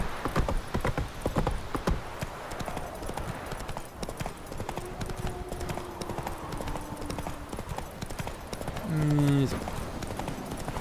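Rhythmic clip-clop of hooves at a steady trot in the game The Witcher 3: Wild Hunt, close and continuous, with a brief horse whinny near the end and a few spoken words.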